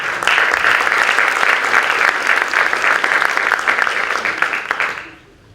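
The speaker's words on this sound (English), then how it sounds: "A round of applause for Standard Access." A pitching-session audience at a tourism startup event applauds a startup team, producing a thick, steady burst of many hands clapping for about five seconds before fading quickly into quiet.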